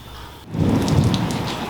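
Steady rain falls outside a shed on a building site, a broad hiss that swells after the first half second and then holds loud and continuous, with low rumbling underneath.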